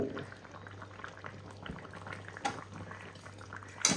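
Chicken curry gravy thinned with hot water simmers in a pot, a soft steady bubbling with a low hum beneath and a few sharper pops and clinks, no voices.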